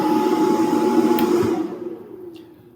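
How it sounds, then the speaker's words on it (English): Cooling fans of a 2000W power inverter under heavy microwave load whir with a steady, fairly loud hum and faint whine, then spin down and fade to quiet. "So that's the noise of the fan."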